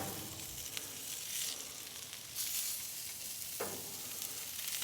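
Tomahawk ribeye steaks searing over a Frontgate gas grill during a reverse sear, giving a steady, close, hissing sizzle with swells as the meat is moved, no voices.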